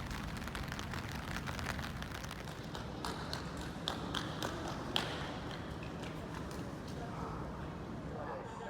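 Pouring rain falls over a port in Kobe, a dense, steady hiss with scattered patters and drips on nearby surfaces, continuous and close throughout.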